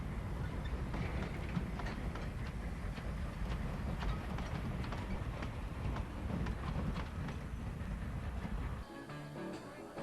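A Glenbrook Vintage Railway train rolls steadily past, with continuous rumbling and rhythmic wheel clatter that drops away abruptly near the end.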